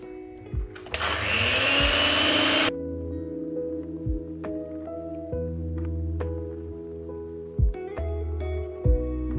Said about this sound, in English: this is the point that I go in with my hand mixer just to make everything blend in well together